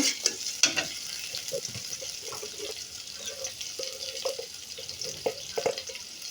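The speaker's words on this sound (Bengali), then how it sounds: "এখন একটু নাড়া দিয়ে দিব" Shrimp frying in a pan, stirred with a utensil: soft steady sizzle under a string of scraping, clinking stir strokes, close and moderately quiet, no talking.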